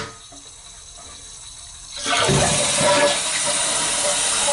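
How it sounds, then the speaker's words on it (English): A household toilet with a leaky, noisy tank is flushed: a quiet lead-in gives way to a sudden loud rush of draining water, followed by steady hissing as the tank starts refilling, close by. "And we're going to go ahead and flush it."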